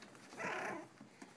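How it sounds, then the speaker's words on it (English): Shichon puppies playing together let out a short yip or whimper-like vocalization over quiet background, faint and brief, with a couple of small soft sounds after it. "these are the Shichon puppies. They are just playing this morning like crazy"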